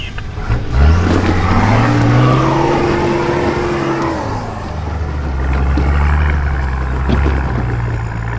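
A 4WD vehicle climbs a rough Blue Mountains track, its engine droning and rising in pitch as it works uphill, then easing off before pulling again, close and fairly loud with no voices.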